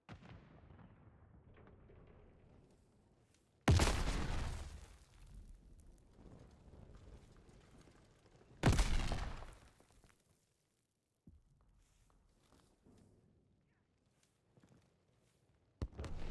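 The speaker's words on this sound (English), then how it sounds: "What on earth was exploding there?" Explosions in a sniping video game, two loud booming blasts with rumbling tails a few seconds apart, then a third sharp burst at the end, set against quiet background noise.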